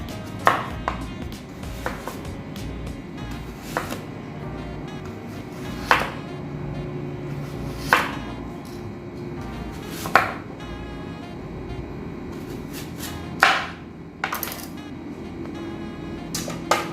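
A knife slices through peeled yam on a cutting board for a steamed yam cake, sharp distinct knocks landing about every two seconds, with some quicker cuts late on, over quiet kitchen background.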